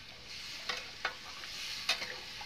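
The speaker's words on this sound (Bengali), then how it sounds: "তো এখন আমি জল দিয়ে নেব পরিমাণ মতো" A pan of frying country chicken and potatoes hisses softly with a steady sizzle as water goes in, and a few quick spoon scrapes knock against the pan, all fairly faint.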